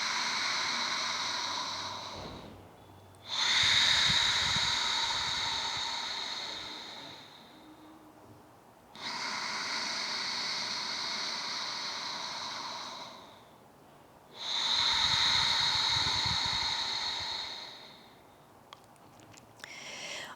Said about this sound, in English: as you inhale, the breath will sound like an ocean wave.